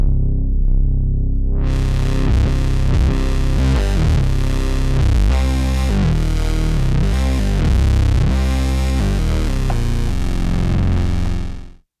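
An analog synth bass plays a loud, gritty, distorted line with aggressive, buzzing notes in a varied rhythm for about ten seconds before cutting off abruptly.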